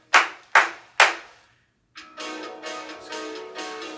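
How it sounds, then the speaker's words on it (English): Three sharp, evenly spaced hand claps ring out close and clear during a children's storytime game, each one decaying quickly, followed by a softer, more scattered spread of clapping. "clap your hands 3 times"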